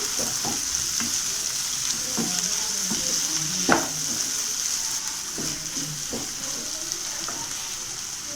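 Cooked rice is stirred into tomato masala in a hot pan, producing a steady hiss and sizzle with irregular spoon scrapes and knocks against the pan, close and moderately loud.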